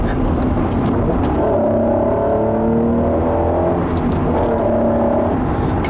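A 1992 Acura NSX with a five-speed manual revs its VTEC engine hard toward an 8,000 RPM redline, with loud, rising harmonic sweeps climbing through the gears and a steady, close, sustained engine roar and no talking.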